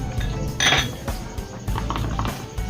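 Yogurt mixed with fennel powder and dry ginger for Kashmiri aloo curry: a spoon scrapes and clinks against a bowl in quick irregular strokes, close by, with no talking.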